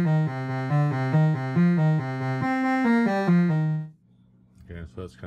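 Moog Mother-32 synthesizer sequence, a bass line of steady stepped notes in a repeating riff that ring for about four seconds and then stop before a voice starts speaking.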